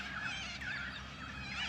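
Birds chirp and warble faintly on an outdoor morning walk, with soft, continuous calls over a steady background hiss.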